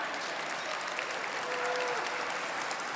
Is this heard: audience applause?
yes